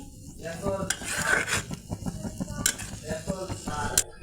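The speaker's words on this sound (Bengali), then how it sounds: "আমি কিছুক্ষণ নেড়ে চেড়ে আবারও মিশাই নিলাম" Onion and dried chepa fish paste are stirred in a pan, a close, continuous scraping and rubbing with a light sizzle underneath and a few sharper clinks of the utensil against the pan.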